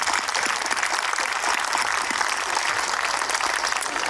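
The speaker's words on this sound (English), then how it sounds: "Please join me in a round of applause for their extraordinary work" An outdoor crowd applauds city council members and mayors at the grand re-opening of Finlay Park in Columbia, a continuous, even wash of many hands clapping that holds at a steady loudness with no speech.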